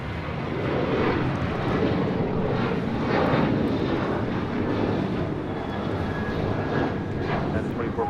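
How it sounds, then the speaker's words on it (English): United Airlines Boeing 737-800 jet taking off at Los Angeles International Airport, a loud steady engine roar that holds throughout, with voices and radio talk faintly underneath. "This is United Airlines 2449 taking off to Las Vegas on a 737-800"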